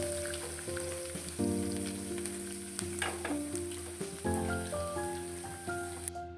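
Garlic fries in hot oil toward golden brown for a spiced puffed-rice snack, with a steady, close crackling sizzle and the light scrape of occasional stirring. Soft background music runs underneath.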